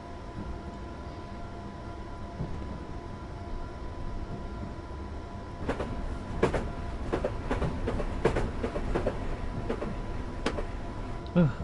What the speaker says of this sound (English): this train pulls directly out in front of my path